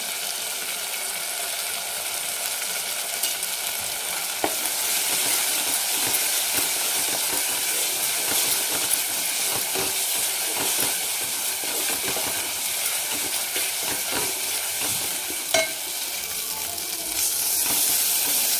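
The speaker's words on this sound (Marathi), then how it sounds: "परत तेलामध्ये 2 मिनिट आपल्याला परतून घ्यायचे. गॅस आता फास्ट करायचा आहे आपल्याला." Spice masala with turmeric sautéing in oil over a high gas flame gives a steady, loud sizzle and hiss with occasional stirring scrapes, and no one speaks.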